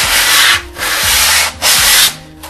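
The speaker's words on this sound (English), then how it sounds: "I use a 240 grade sandpaper on a sanding block" Rubbing 240 grit sandpaper on a sanding block along the edge of a foam FPV wing part, three loud rasping strokes separated by short pauses, close and with no voices.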